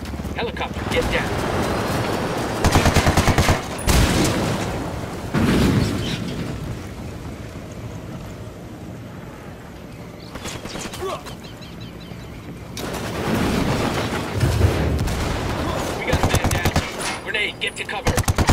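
In Ghost Recon Wildlands, heavy automatic gunfire rattles in repeated loud bursts, with booming blasts and shouted voices mixed in amid the chaos.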